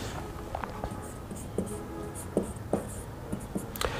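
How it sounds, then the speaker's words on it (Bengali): A formula being handwritten with a pen in a finance tutorial: soft scratchy strokes and short taps come in uneven bursts, close and quiet, with no talking. "সবার প্রথমে আমরা সূত্রটা লিখে ফেলবো"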